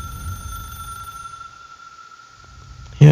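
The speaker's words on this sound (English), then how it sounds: "I think you can change the way it rings to like a chirp chirp" An old telephone rings inside the video game Control, a steady electronic ring sitting over a low background rumble, moderately loud and alone, ending with a sudden louder burst.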